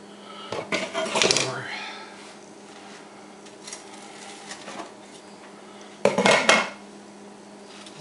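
A knife cuts through a toasted sandwich with mustard and mayonnaise on a plate, giving sharp clinks and scrapes of metal on dish in two short bursts separated by quieter handling noise.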